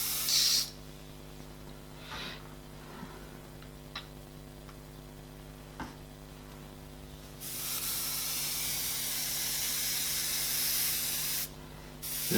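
An airbrush mists paint while an eye is being painted: short soft hisses early on, then a longer steady spray hiss lasting about four seconds, close and fairly quiet over a constant low electrical hum.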